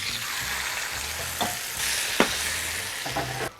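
Eggplants frying and sizzling in a pan with vegetable stock, a steady hiss with a few sharp stirring clicks and scrapes, close and continuous without talk.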